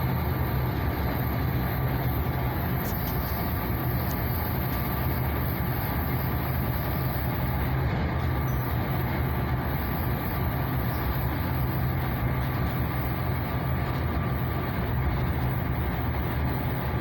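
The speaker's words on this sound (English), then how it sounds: "There's the wired train there." Steady, continuous rumble of a passing train, low and heavy throughout with no break, no voices.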